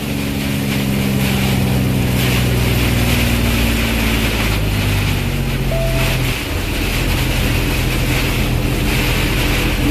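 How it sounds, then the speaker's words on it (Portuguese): Loud, steady roar of wind with heavy rain noise, a constant broadband rush that swells slightly and never lets up. "Rajada de vento com chuva."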